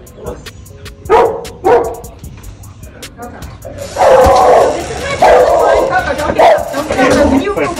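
A nervous dog barks loudly in sharp separate bursts, first a few spaced barks and then a louder, denser run of barking close by, with people talking in between.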